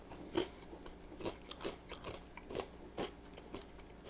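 Several crunchy bites into a Great Value thin crust pepperoni pizza, close and fairly quiet, with crisp cracks spaced about half a second apart and some chewing between.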